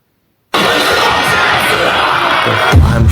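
An arena crowd bursts into loud cheering and shouting after a gladiator fight, a sudden dense roar starting from silence and staying strong, with a thump near the end.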